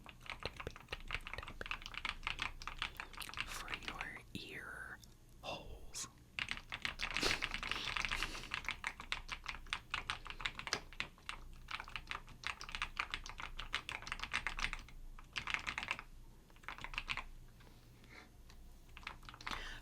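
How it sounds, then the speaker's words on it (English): Rapid typing on a computer keyboard, a stream of crisp clicky keystrokes with brief pauses, close up, and a voice speaking briefly partway through. "typing"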